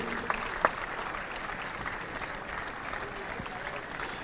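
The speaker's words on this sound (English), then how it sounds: "Big round of applause, ladies and gentlemen." Applause from a crowd at the Mumbai Open, an international women's WTA125 tennis tournament, heard as a steady, moderately distant clatter of many hands that holds evenly throughout, with a couple of sharper claps near the start.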